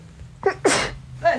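A single close, loud sneeze bursts out after a short sharp intake of breath, followed by a brief trailing sound.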